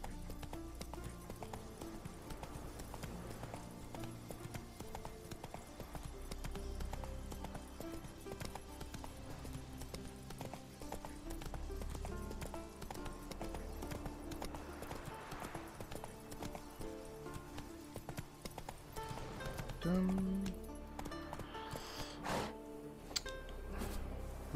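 Roach, Geralt's horse in The Witcher 3 on Skellige, trots with steady rhythmic clip-clop hoofbeats beneath game music and ambience, a voice briefly speaking over it.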